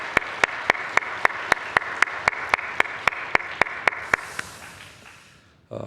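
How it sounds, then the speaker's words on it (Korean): A church congregation at a Sunday worship service claps in steady unison, about sixteen sharp, evenly spaced beats over a soft murmur, ending with a brief trailing wash of applause. "오늘 이 예배를 허락하신 하나님께 우리 영광의 박수 올려드리십시다."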